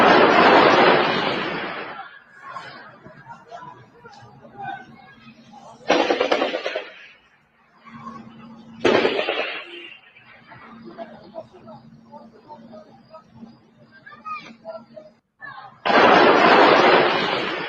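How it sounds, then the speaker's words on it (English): A played war video gives loud blasts of bombing and gunfire that open and close the stretch, with further sharp bursts between them, while someone talks quietly in the gaps. "So that's bombing and gunfire."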